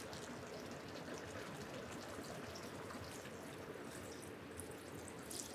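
Water being poured into a pot of oxtail soup, a steady broadband splashing and trickling rush that stays even and fairly faint throughout, with no talk.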